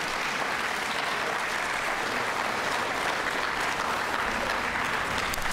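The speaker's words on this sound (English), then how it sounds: "give yourselves a round of applause for making it here today" A school science fair awards audience claps continuously and loudly, a dense and steady applause that fills the whole stretch without a break.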